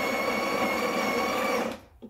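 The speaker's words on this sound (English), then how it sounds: "you want to change it only when the grinder is grinding" A Breville Barista Express BES870 grinder grinds coffee beans with a steady, whirring motor drone close by. It runs evenly for almost two seconds, then stops abruptly, followed by a brief clack.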